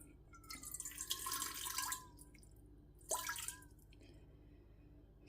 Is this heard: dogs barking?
no